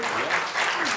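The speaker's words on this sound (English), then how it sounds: "Give a round of applause to Lucy and Amie." An audience at a live marketing conference workshop gives a dense burst of applause for the speakers, a steady wash of clapping hands that fills the whole short moment.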